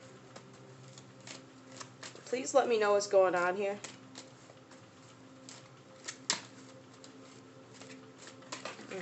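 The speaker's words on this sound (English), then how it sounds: "I'll give it another shuffle." Several short bursts of papery card shuffling, with a louder riffle in the middle, while a person speaks quietly over it.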